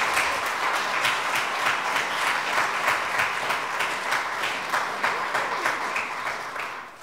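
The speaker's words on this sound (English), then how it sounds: "would you join me in giving our sponsors a round of applause to show appreciation?" Sustained applause from a crowd at a Greenville University homecoming jazz band concert, a dense, steady wash of clapping that holds throughout and tapers slightly at the end.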